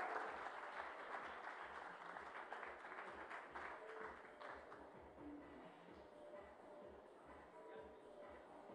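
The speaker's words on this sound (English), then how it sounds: "Can we have a louder round of applause, ladies and gentlemen, for a very engaging panel discussion there?" A sustained, even wash of audience applause follows a panel discussion at the INEX Interior & Exterior Awards 2019, steady and somewhat distant, with a faint voice underneath.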